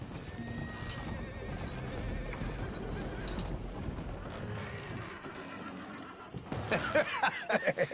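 Horse whinnying and clip-clopping hooves in the video game Red Dead Redemption 2, set under busy ambient game noise that swells louder near the end.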